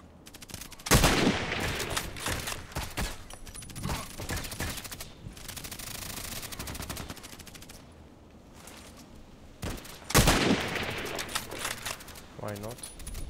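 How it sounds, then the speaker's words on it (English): Gunfire from a tower gun in a video game, with bursts of rapid shots and sharp loud blasts at intervals, a voice talking over parts of it. "The tower is also a gun that can shoot long,"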